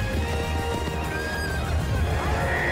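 Horses neigh and whinny loudly over steady hoof clatter in the animated film Spirit: Stallion of the Cimarron, with several high, wavering calls overlapping throughout.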